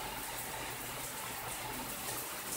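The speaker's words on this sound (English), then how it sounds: "add soaked urad and rajma bean mix, draining all the water" Water pouring out steadily as soaked urad and rajma beans are drained for Punjabi dhaba-style dal makhani, a continuous gushing flow heard close and fairly loud throughout the short stretch, with no talking.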